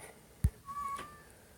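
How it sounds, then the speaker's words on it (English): A cat meows once, short and faint, in the background of a quiet indoor room after a sharp low knock. "Ignore the cat in the background."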